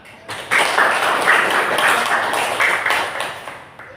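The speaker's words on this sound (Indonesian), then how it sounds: "Tepuk tangan." A classroom claps for a group's score of 98: a dense burst of hand clapping that rises quickly, holds steady for about three seconds, then fades.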